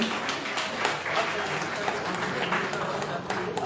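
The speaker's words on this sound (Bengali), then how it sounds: "সবাই একটু হাততালি দেবেন।" Audience clapping at a film festival awards ceremony on stage, a dense, steady wash of applause from a crowd filling the room for a few seconds with no clear breaks.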